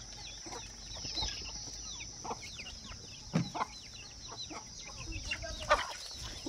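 Village hens clucking nearby in a farmyard with chicks around, short repeated clucks and chirps scattered over a quiet background with a steady high insect-like hum.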